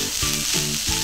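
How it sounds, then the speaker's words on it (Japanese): Oatmeal fried rice stir-fried over medium heat, a steady close sizzle with three rhythmic scraping tosses of the spatula spaced evenly through it, no voices. "あとはもう中火でバラッと炒める"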